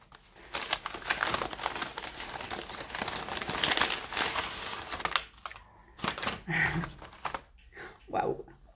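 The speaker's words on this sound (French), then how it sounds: "Et voilà, donc on va ouvrir son petit colis." Plastic wrapping on a small parcel of fabric masks crinkles and rustles as it is torn open by hand, close and fairly loud, with brief pauses and a person talking between bursts.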